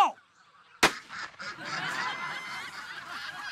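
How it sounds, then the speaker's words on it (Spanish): Loud, nasal quacking or honking from a duck comes in a sharp burst, followed by a continuing raspy, noisy cackle. "¡Pato!"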